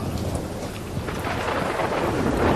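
Thunderstorm with heavy rain used as a sound effect in a children's Bible story about Jonah at sea, a dense continuous roar of downpour and rumbling thunder, loud and without voices.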